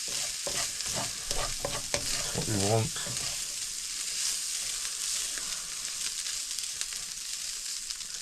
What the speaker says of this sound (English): It's all frying off there quite nicely now.